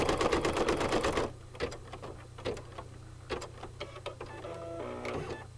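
An embroidery machine stitching out a maple leaf design for a Mylar card: a fast, loud mechanical rattle at first, then slower ticking and clicking over a steady low motor hum.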